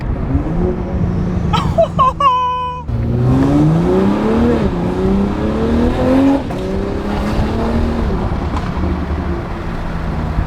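A BMW Gen 3 B58 engine with an aftermarket downpipe revs hard and climbs in pitch, dropping sharply between gears as it upshifts repeatedly, loud and close with a raspy exhaust roar.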